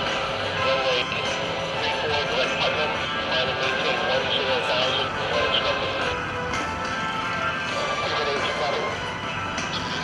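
A Douglas A-1E Skyraider makes a touch-and-go landing at an airshow, its piston engine a loud, steady drone and roar that fills the whole stretch, with a crowd and announcer talking over it.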